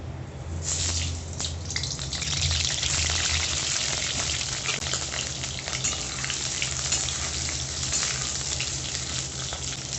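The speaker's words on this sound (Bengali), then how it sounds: "আলুগুলোকে একটু ভেজে নেব হালকা লালচে করে" Potatoes fry in hot mustard oil in a kadai over a gas flame, giving off a loud, dense, continuous sizzle and crackle that runs steadily throughout with no voices.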